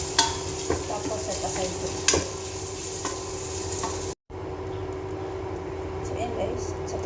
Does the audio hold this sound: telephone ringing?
no